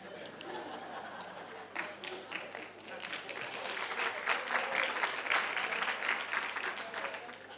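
Applause from a conference audience at an education innovation event, a dense, fairly distant wash of clapping that builds and holds steady, with murmured chatter mixed in.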